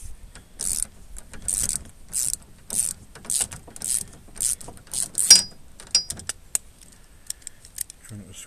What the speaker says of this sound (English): Switch the ratchet.